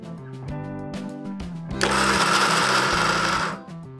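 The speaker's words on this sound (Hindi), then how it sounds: "आपको अब मैं ग्राइंडर लूं और ग्राइंडर में हमें इसका चूरमा बनाना है।" An electric kitchen grinder grinds churma for modak, a loud steady whirring roar that starts abruptly, runs for nearly two seconds and stops, over continuous background music.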